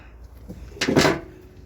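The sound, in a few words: creaky car door of a Dodge Durango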